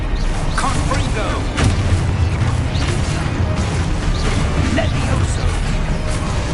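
Confringo fire-blast spell explosions in the video game Hogwarts Legacy, a loud rumbling clutter of booms and crashing debris with scattered sharp hits throughout.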